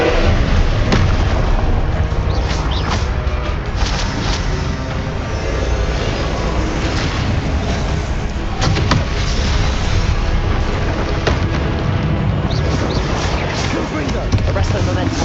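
Confringo fire spell explosions in the video game Hogwarts Legacy, a dense barrage of booming blasts and crackling bursts mixed with other spell effects, loud and continuous, with a voice chanting spell names over it.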